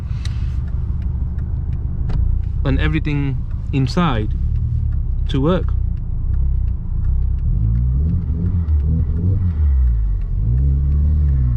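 A heavily modified Mk1 SEAT Leon Cupra R engine rumbles and rises in brief revving bursts, with someone talking over it at the start.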